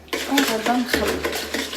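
Eggs and yogurt are being stirred together into a semolina basbousa batter in a bowl, giving a close, steady scraping and clinking of utensil against the bowl for a couple of seconds.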